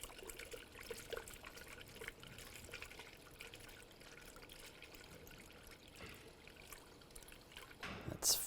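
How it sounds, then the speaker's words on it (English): Coolant mixed fifty-fifty being poured through a funnel into the radiator of a 2008-2017 Buick Enclave, a steady close trickle and splash that runs without a break and swells briefly at the end. "I'm going to use a funnel. I'm going to pour the correct coolant in."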